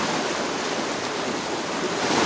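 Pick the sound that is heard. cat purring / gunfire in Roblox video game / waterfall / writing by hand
waterfall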